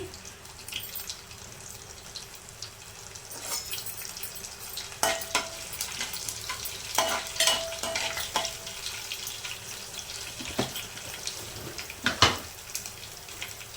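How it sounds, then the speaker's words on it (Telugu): Cumin and mustard seeds frying in a pan, a soft steady sizzle with scattered sharp pops and crackles, close and moderately loud, no talk. "జీలకర్ర, ఆవాలు ఇవైతే ఫ్రై అవ్వాలి మనకి."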